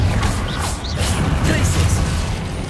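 Incendio and Confringo spells are cast in combat in Hogwarts Legacy: a string of loud crackling bursts, whooshes and crashing impacts, with a voice faintly mixed underneath.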